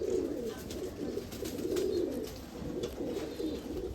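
Breeder male Dabla pigeon cooing close by in repeated soft, throaty bursts, steady and unhurried, with no voices over it.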